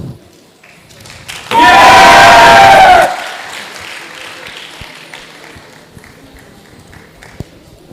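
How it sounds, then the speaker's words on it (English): Audience applause and cheering at a literature day event: a short, loud burst of clapping with a raised voice on top, lasting about a second and a half before quickly dying away into room murmur. "please, a round of applause"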